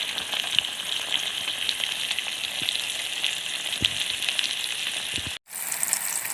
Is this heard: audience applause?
no